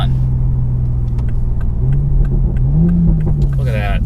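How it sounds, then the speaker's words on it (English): A 2020 Toyota Supra revs through downshifts on a country road, the engine note rising and swelling in pitch blips over a loud, steady cabin drone, close and continuous. "Perfect downshifts on the road."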